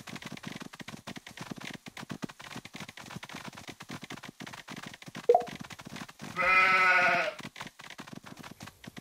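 Cartoon sheep in a Paw Patrol video game let out a short bleat and then a longer wavering bleat, over a busy background of clicky game music.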